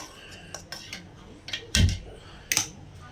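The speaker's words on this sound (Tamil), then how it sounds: "அடுப்பத்தை வச்சு இந்த மாதிரி ஒரு வடசட்டி வச்சுக்கோங்க" A metal kadai is set down on a stove, giving a few close clanks and scrapes of metal, with one heavier thud in the middle and a sharper clatter soon after.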